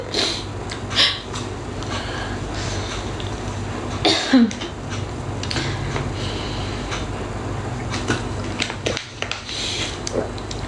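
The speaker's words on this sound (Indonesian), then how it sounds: "Dia pakai batuk susah banget" Harsh coughs and throat clearing from a sick pregnant woman come in short bursts, with a few sharp hacks breaking up the stretches between them.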